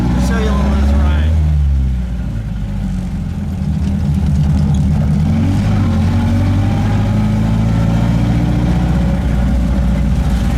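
Custom 1929 Ford Model A engine running during a ride, a loud low rumbling drone that rises in pitch early on and then holds a steady, throbbing note.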